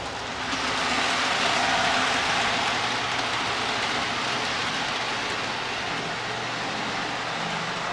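A steady rumbling clatter of a model train rolling along track, continuous and fairly loud, with a broad hiss-like roar throughout and no voices.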